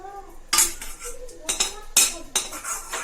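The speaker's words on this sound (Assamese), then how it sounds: "এতিয়া মই ভাজিখিনি এনেকৈ কাঢ়ি ল'লোঁ বাতি এটাত" Fried brinjal cooked with curry leaves is scooped from a pan into a bowl, producing four sharp metallic scrapes and clinks of the utensil against cookware in quick succession, close and fairly loud.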